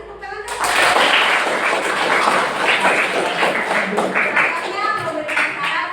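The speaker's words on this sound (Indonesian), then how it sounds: "Beri tepuk tangan dong." Classroom students applaud, a dense burst of clapping that starts abruptly after a brief pause and holds steady at fairly close range, with scattered voices and chatter mixed in.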